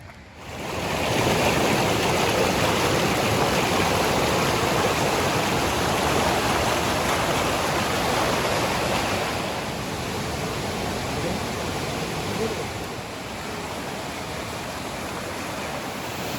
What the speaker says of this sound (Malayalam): ഈ വെള്ളത്തിൻ്റെ സൗണ്ട് വെച്ചാണ് ഈ ലൊക്കേഷൻ എന്ന് കണ്ടുപിടിച്ചത്